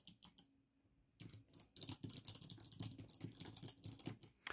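Rapid typing on a compact Ferris Sweep split keyboard, a dense run of light clicky keystrokes close up after a short pause near the start, with no talking.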